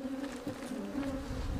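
Africanized killer bees buzz in a steady, dense drone with a sustained hum and no pauses, fairly loud and close throughout, with no voices.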